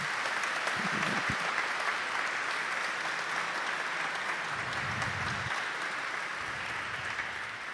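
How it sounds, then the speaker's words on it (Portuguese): A church congregation claps steadily in a continuous wash of applause for two married couples, moderately loud and unbroken throughout. "uma salva de palmas para os 2 casais"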